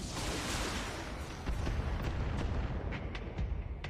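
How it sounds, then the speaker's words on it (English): Mech weapons fire on a target in the BattleTech game: a dense run of booming, rumbling shots and sharp bursts, loud and continuous, with several crisp impacts stacking up toward the end. "Firing on target."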